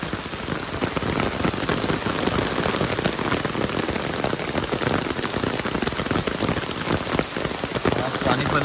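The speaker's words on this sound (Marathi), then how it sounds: "आता संध्याकाळी पाऊस जोरात चालू झालेलो" Heavy evening monsoon rain in rural Konkan pours down steadily, a dense, loud, continuous hiss of drops hammering surfaces up close, unbroken for the whole stretch.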